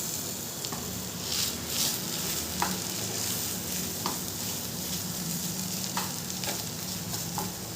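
Mashed potato with salt and spices fries in a pan for aloo chop, a constant sizzle under repeated spatula scrapes and stirring knocks at a close, moderate level.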